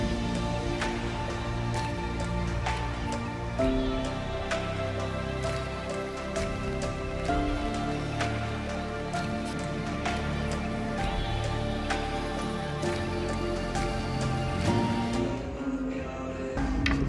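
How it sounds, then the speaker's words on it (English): Rain falls steadily on a street in Milan, a constant dense patter that continues unbroken at even loudness, mixed with faint background city sound. "And suddenly it started to rain here in Milano."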